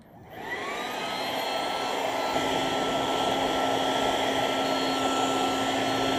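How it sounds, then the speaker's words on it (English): A blow dryer roars steadily and loudly, clearing dirt out of the joints of a stamped concrete driveway, its hum starting abruptly and then holding at a constant pitch with no talk over it. "I'll use this blow dryer so I can remove all the dirt from the joint"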